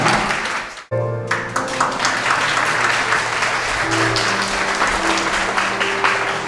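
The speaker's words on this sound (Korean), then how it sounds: "큰 박수 부탁드리겠습니다." Wedding guests clap together in a steady, full round of applause after a brief dip at the start, with a hum of background tones and a faint voice under the clapping.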